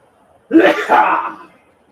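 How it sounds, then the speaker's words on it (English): A single sharp sneeze bursts out close to the microphone, followed by a short breathy tail, with quiet before and after. "Sorry, I sneezed on you."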